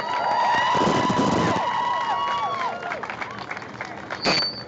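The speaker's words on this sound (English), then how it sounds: "Another round of applause for our graduating class" At a high school commencement for the class of 2020, an audience applauds the graduating class, a broad continuous clapping with cheering tones mixed in, while a sustained tonal sound sweeps across the early part and fades.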